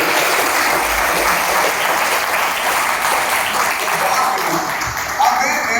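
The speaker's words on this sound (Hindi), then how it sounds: "ताली बजाओ हमारे स्कूल के लिए" A school audience claps together in a sustained, dense round of applause that stays loud and even throughout.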